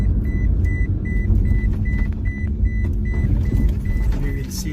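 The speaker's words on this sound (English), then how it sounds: "So we are driving now the car." A Toyota Prius with a battery control system fault drives along a road near the Afghanistan–Pakistan border, its engine giving a steady rumble while a regular warning beep chimes over it at an even pace.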